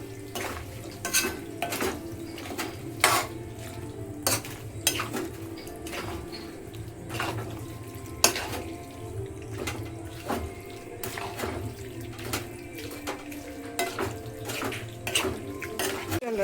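Metal spoon stirring curd into a bitter gourd curry in a pan, with repeated sharp clinks and scrapes against the pan at an uneven rhythm over a low steady hum, fairly quiet and close.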